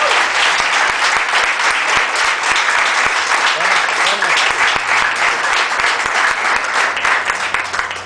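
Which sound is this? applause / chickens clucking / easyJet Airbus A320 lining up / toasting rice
applause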